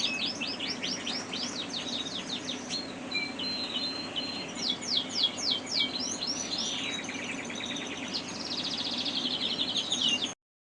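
Cage birds in a breeding shed keep up a continuous chorus of high chirps and twittering trills over a steady background hiss, moderately distant and without any voices.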